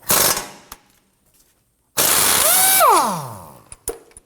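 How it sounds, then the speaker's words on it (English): Two bursts from an impact gun with a socket loosening a nut on the front steering rack of a 2003-2014 Volvo XC90: a short rattling buzz, a pause, then a longer hammering run that winds down with falling pitch, followed by a few clicks. "We're going to use our socket and impact gun to do that."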